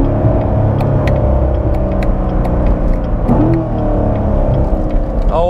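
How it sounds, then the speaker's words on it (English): A Chevrolet C7 Corvette Stingray engine revs on a downshift, a steady loud rumble with a quick rising blip partway through and another surge near the end, on a cold day with cold tires. "So we're going to try a little downshift again."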